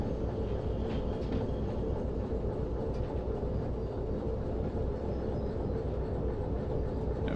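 A train pulling three wagons in the Derail Valley railway game rolls along the rails. It makes a steady, heavy rumble with faint clatter and no break across the whole stretch, with no voices.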